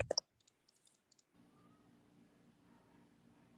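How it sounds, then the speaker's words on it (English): An old school typewriter clacks out a quick burst of sharp, separate key strikes in the first second or so, then falls quiet over a low background hum. "Hey, the old school typewriters, man."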